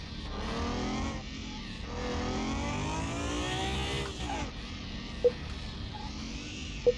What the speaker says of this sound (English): This has got an interesting car sound.